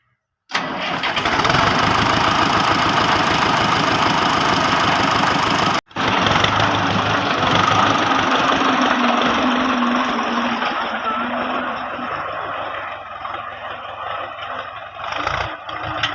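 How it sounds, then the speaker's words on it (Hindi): A farm tractor's engine cranks and catches abruptly, then runs at a loud, steady idle with a brief cut partway through before settling into a lower rumble, in a village setting with no talk. "तो माशाल्लाह बहुत प्यारा ट्रैक्टर चला रही है"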